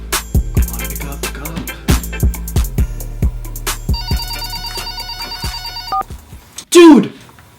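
A telephone rings in short repeated bursts over a steady rhythmic beat, followed by a sustained tone and a rising sweep at the end, loud and close.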